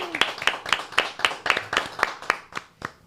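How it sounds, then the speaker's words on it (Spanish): Applause for a Puerto Rico police sergeant at a gathering: about a dozen crisp, evenly spaced claps from a small group, landing in a steady rhythm and thinning out at the end. "Un aplauso."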